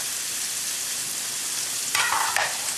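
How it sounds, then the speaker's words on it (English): Thick cheese-stuffed burgers fry in a pan with a steady close sizzle, and a couple of brief louder crackles or spatula scrapes come near the end. "since these burgers are so thick, I mean, you gotta cook them pretty often and let them cook thoroughly best you can"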